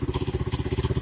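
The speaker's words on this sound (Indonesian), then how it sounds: "kemudian kita hidupkan mesinnya" A Yamaha Vega ZR motorcycle with a manual clutch engine idles close by, a steady fast chugging pulse of even exhaust beats throughout, with no talk.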